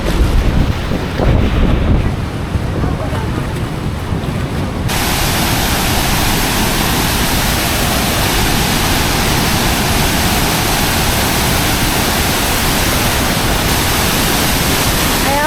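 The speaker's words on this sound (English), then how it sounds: "Here we are at the waterfalls that separate Vietnam and China." A loud, steady roar of rushing water close by at Ban Gioc Waterfall on the Vietnam–China border, continuous throughout, with heavy wind buffeting the microphone.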